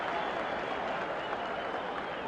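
A thick, continuous roar from a 1972 New York boxing arena crowd backing Floyd Patterson's round 9 rally against Oscar Bonavena, a steady blend of cheering and applause with no pauses.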